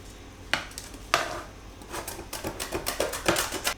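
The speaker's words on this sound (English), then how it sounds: "First I'm going to grate the carrots." Carrots being grated for cabbage and squid pancakes, with irregular rasping strokes that start sparse and quicken into a steady rhythm, loud and close with no talk.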